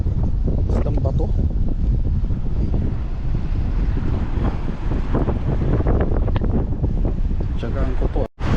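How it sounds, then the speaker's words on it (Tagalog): Wind blows hard across a microphone at a marina fishing spot on Caylabne Bay, a loud, constant roaring buffet that ends with a brief abrupt cut. "napakasarap ng hangin dito"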